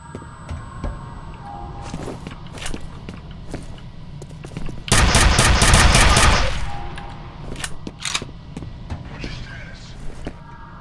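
Shotgun and other gunfire in the horror shooter F.E.A.R., scattered sharp shots and then a heavy, loud barrage lasting about two seconds before single blasts resume.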